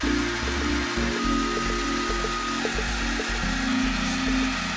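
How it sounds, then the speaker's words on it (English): A blow dryer fitted with a diffuser runs steadily while drying hair, its continuous whirring motor hum shifting slightly in pitch as it is moved around, close and alone without speech. "Blow dryer, diffuser"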